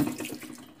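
Tap water runs steadily into a stainless steel cooking pot at a kitchen sink, a short close splashing pour with no voices.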